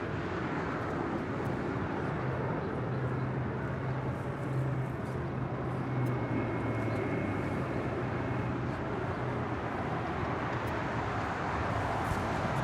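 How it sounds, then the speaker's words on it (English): A Japan Airlines Boeing 777-300ER on short final into LAX runway 24 right from Tokyo Haneda, a loud, steady jet engine roar with a low droning hum holding throughout. "Japan Airlines 777-300ER, short funnel for 24 right there on the north side"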